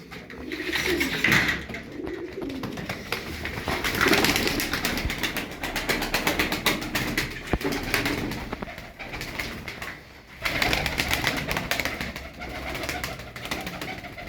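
Tumbler pigeons in a loft coo in soft, repeated throaty calls that overlap and rise and fall. Light rustling and shuffling run between the calls, with no speech.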